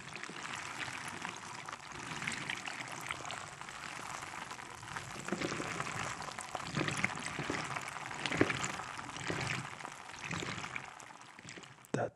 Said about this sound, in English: I was digging around in these Orbeez.